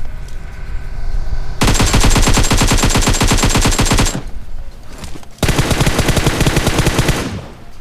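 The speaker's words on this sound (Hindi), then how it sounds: "मैंने बस अंधा रेड डॉट से फायर दिया और ये बंदा मारा गया" Loud bursts of rapid automatic gunfire in the PUBG Mobile video game, two long sustained volleys of close, evenly spaced shots separated by a short pause.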